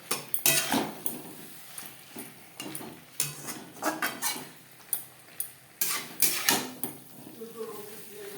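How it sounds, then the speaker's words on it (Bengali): Fried okra mixed into spices in a pan, with irregular close clinks and scrapes of a spoon against metal, some sharp and loud, others soft, under faint background sound. "ভেন্ডি মশলার সাথে ভেন্ডি বেশ ভালো করে মিক্স করে দেবো"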